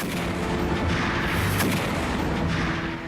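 Heavy naval cannon fire from a sailing warship battle, a dense, continuous roar of booming gunfire sustained and loud throughout, with no voices.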